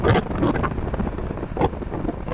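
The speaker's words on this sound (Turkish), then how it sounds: "Rüzgar zaten sağa sağa itiyor bizi." Constant rushing wind buffets the microphone while riding a Honda XL750 Transalp motorcycle, a loud roaring whoosh with gusty swells and no speech.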